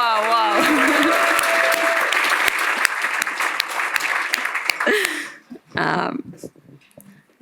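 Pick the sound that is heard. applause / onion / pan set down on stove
applause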